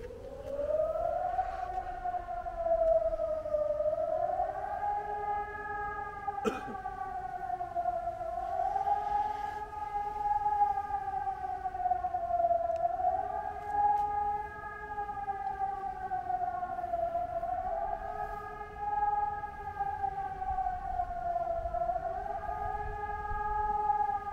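Civil defense warning siren sounding during the Warntag 2024 test in Bad Lippspringe, a steady mechanical wail that slowly rises and falls in pitch, continuous and fairly distant, with a brief sharp click partway through.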